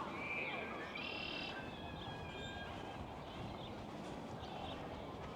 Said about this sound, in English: That sound that I think sounds like blackbirds. Yeah, red-winged blackbirds.